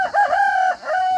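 A rooster crows in a coop in Muğla, one long close, loud call with a brief break and a second rising call.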